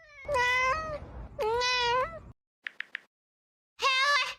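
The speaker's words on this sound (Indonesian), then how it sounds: "Makan yang banyak ya, Pus. Kamu tuh lagi hamil" A pregnant domestic cat meows loudly and close by, three long drawn-out calls with a cluster of short soft chirps between them, with no talk.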